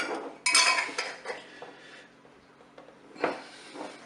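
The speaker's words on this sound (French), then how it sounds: "Je vais mettre le couvercle, bien sûr, sur les pots de confiture. Je vais les serrer assez fort" Metal lids being screwed down tightly onto hot jars of pear jam in a home kitchen, giving a few sharp clinks and scraping twists, with quieter rubbing between two louder bursts.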